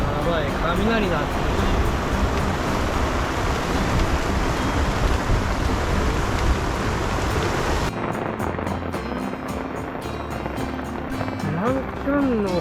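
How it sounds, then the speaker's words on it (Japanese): Heavy rain pours steadily in a summer mountain forest at a solo campsite, with rumbling thunder rolling beneath it. The downpour stays loud and dense throughout, and a voice is heard partway through. "やばい、雷だ。"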